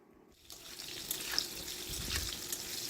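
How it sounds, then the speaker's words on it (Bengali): Potatoes and papaya sizzling in a pan for Bengali shukto, a steady hissing fry that rises after a quiet moment, with light stirring and scraping noises over it, close and fairly soft, with no talking. "পেঁপে আর আলু মিশিয়ে আবারও মিনিট 2 মতো একটু নাড়াচাড়া করে নিতে হবে।"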